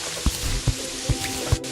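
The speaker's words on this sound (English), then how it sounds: "You can't be too far down. Still hear the rain." Rain in the video game Terraria: a steady hiss of falling water with four evenly spaced drips landing at a regular rhythm, fairly loud and with no voices.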